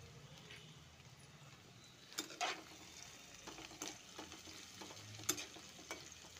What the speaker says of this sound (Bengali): ভালো করে একটু ভাজা হোক।